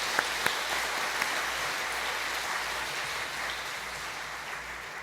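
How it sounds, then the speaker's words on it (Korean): Church congregation at a Sunday afternoon service gives a steady, fairly distant round of applause, a soft even patter of many hands with a few sharper claps near the start. "한번 더 박수로 한번 격려하실까요?"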